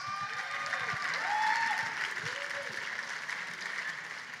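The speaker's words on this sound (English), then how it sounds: "Give them a round of applause." An audience at a charity auction gala applauds a donation, a steady, moderately loud wash of clapping lasting the whole stretch, with a faint whistle rising over it.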